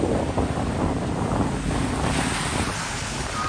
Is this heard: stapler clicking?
no